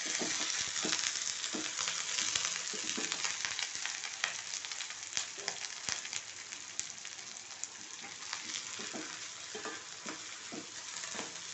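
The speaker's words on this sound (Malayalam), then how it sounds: "ഉള്ളി പച്ചമുളക് കരുവേപ്പില രണ്ട് വറമുളക് കടലപ്പരിപ്പ് ഉഴുന്ന് പരിപ്പൊക്കെ ഇട്ട് നന്നായിട്ട് ഒന്ന് വറുത്തെടുക്കുക" Onion, green chillies, curry leaves, dried red chillies, chana dal and urad dal frying in hot oil, a continuous close crackling sizzle with frequent stirring scrapes throughout, no voices.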